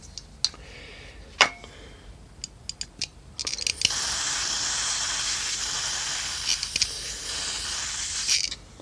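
Carburetor cleaner sprays from a nearly empty aerosol can during a MAF cleaning on a 1991 Ford Ranger 2.3, starting with a few short clicks and spurts, then a steady loud hiss of several seconds that sputters near the end.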